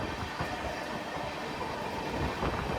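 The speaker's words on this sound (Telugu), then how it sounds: "సంతరగతి తాంబరం అంతర్జాతీయ ఎక్స్ప్రెస్." Santragachi–Tambaram Antyodaya Express, a fully general-class train, rumbling past as a steady, moderately quiet rolling roar with a soft hint of wheel clatter, no talk.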